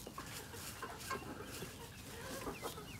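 Chickens cluck inside a coop freshly scattered with bird seed, with soft, scattered clucks and pecking from several birds through a low continuous background hum.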